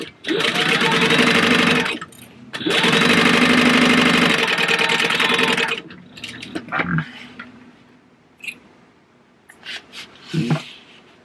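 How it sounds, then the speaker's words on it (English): A sewing machine stitches a quarter-inch seam across bag fabric, running in two loud sustained bursts with a short pause between, then stopping as handling clatter and light rustling follow. "We're going to sew a quarter of an inch across here."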